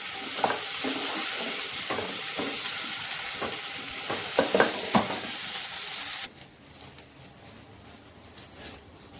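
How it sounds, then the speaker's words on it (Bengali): Potato and cauliflower pieces fry in hot oil with a busy crackling sizzle and sharp scraping stirs, then the sizzle drops to a quieter hiss near the end, without talk. "ওই তেলের মধ্যেই দিয়ে দিচ্ছি আমি 5 ফোড়ন"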